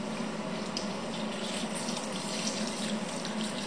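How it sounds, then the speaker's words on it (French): Water pouring steadily into a pot for pumpkin soup, a loud, continuous close rushing splash for the whole stretch, no talk. "Je vais ajouter mon eau."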